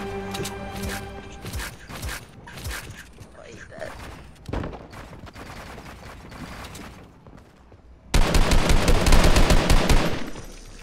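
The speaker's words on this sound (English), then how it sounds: "Bro, stop shooting me." Video game gunfire, scattered shots and mechanical clicks at first, then a loud sustained burst of rapid automatic fire near the end; a voice talks in the background.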